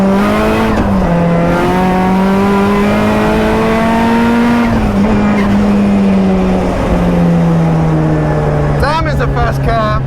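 A 500bhp Mazda MX5 NC race car drives hard on a track, its engine holding a loud, steady, slightly falling drone with sustained high harmonics throughout, under a voice talking.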